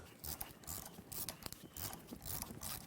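A puller is worked on a 7.3 Powerstroke diesel engine during a high-mileage teardown, producing close, repeated ratcheting clicks and metallic grinding in a busy, uneven rhythm.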